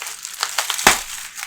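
A cardboard shipping box is slit open with quick crinkling scrapes, building to one loud tearing crunch near the end, close and alone.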